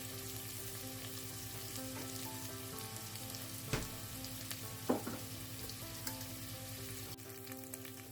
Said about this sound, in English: we're just going to saute this until the onions are nice and golden brown